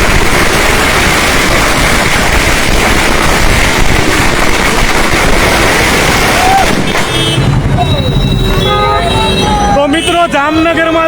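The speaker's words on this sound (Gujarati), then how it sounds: "જામનગરમાં જે ફટાકડા અને ઢોલ નગારા સાથે જઈ કાર્યકર્તાઓ જે ગોપાલભાઈની જીતની જે ભવ્ય ઉજવણી કરી રહ્યા છે" Firecrackers pop in a loud, dense crackle at a political victory celebration in Jamnagar, where party workers also play dhol drums; vehicle horns toot through the din and a voice talks over it.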